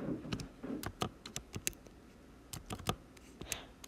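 Fingers tap out a quick, irregular burst of clicks on a computer keyboard, close and fairly quiet, with short pauses between clusters of keystrokes.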